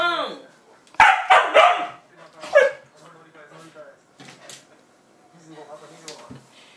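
A white Shiba Inu barks in a few sharp, loud yelps, with whimpering and quieter sounds between them, while a person speaks nearby.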